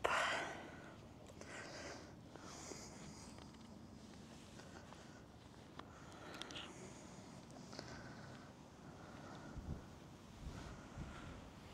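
Wind and waves on the North Sea shore, a steady rush of surf and gusts buffeting the microphone at close range, with no talking.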